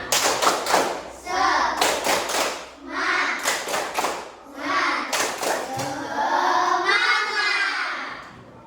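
A group claps loudly in rhythmic bursts while young voices chant along, the pattern repeating several times.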